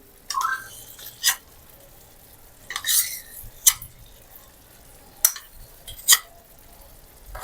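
Cream is stirred into a pot of chicken white karahi. A utensil gives a few sharp clinks and scrapes against the pot at irregular intervals over a quiet background, close by, with no talking.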